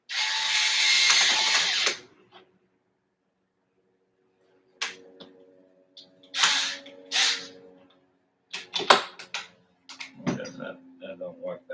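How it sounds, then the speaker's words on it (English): A driver bit working a screw on a toy car's front axle gives intermittent ratcheting clicks and short mechanical bursts after an opening rush of noise, close and separated by pauses. "Just trying to get the bit lined up with the screw."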